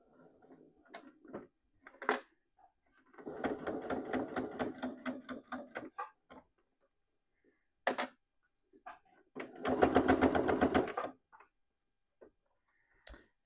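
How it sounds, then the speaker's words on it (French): A sewing machine stitches a seam on a Marley wallet in two runs of rapid mechanical clatter, separated by pauses with small handling clicks and knocks; no voices. "Je vais faire une couture à ce niveau-là."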